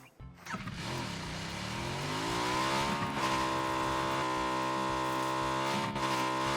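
A motorcycle engine in PUBG revs up and holds a steady, loud drone while riding, its pitch climbing and shifting with gear changes, with no talk over it.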